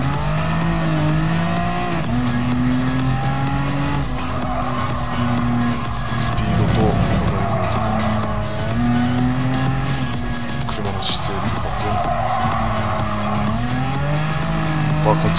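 Racing video game car with a loud, continuous engine drone that rises and falls in pitch, joined by tire squeals and skids; a person talks over it throughout.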